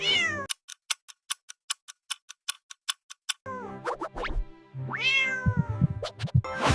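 A cat meows near the start, followed by a quick run of sharp ticking clicks, then several more drawn-out meows, close and clear.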